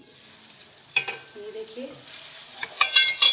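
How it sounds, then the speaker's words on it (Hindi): Eggplant (baingan) sabzi frying slowly in a pan over a low flame: a few clinks of stirring, then a bright, steady sizzle, with brief speech. "अब ये आस्ते आस्ते भून रहे हैं।"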